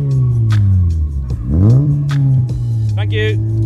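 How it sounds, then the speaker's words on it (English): A car revving at a car show in Margate, Kent, with a loud idle rumble that swells into a quick rising rev and falls back, close by, under people talking. "giving it a quick rev for us"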